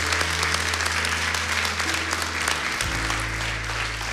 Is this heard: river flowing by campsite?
no